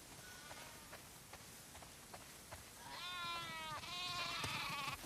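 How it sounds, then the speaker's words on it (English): Several sheep bleat in The Last of Us Part II video game, a few overlapping wavering calls rising near the end over faint footsteps and soft clicks. "Wow. That's a lot of sheep."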